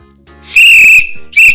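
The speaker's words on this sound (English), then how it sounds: "Go ahead, blow the whistle" A child blows a whistle in two loud, shrill blasts, the first one long and the second short.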